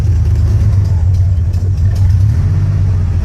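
A manual car in first gear with a light touch of throttle, a steady low engine drone running close and fairly loud for a few seconds while people talk quietly inside the cabin.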